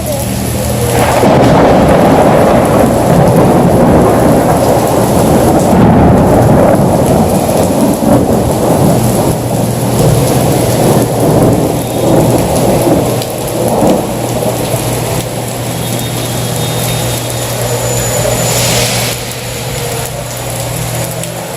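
Heavy rain pours steadily on surfaces during an unexpected rainy day in Mexico, with deep rumbling thunder rolling through; loud and close, a continuous downpour with no talk.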